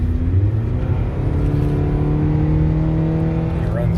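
A 2012 Nissan Sentra's 2-liter engine with CVT running steadily, a close, loud droning hum with a low drone that holds even throughout.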